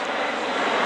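A transport aircraft flies over during a D-Day 80th anniversary paratrooper drop in Normandy, giving a loud, steady engine roar in a brief, continuous stretch.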